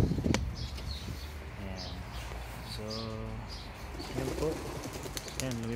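Racing pigeons take off from a landing stick at a loft, with soft bursts of wing flapping and a few coos among outdoor background noise, fairly close.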